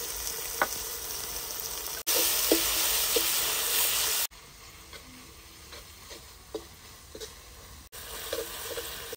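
Mustard seeds, cumin and ginger-garlic-green chili paste fry in hot oil for papad bhaji, making a continuous hissing sizzle with scattered crackles and pops, louder in stretches, no speech.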